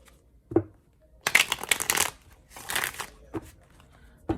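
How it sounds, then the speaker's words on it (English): A deck of tarot cards is shuffled up close in two quick, crisp riffling bursts, with a few softer taps and shuffles before and after in an otherwise quiet room. "I'm going to do 2 shuffles for balance."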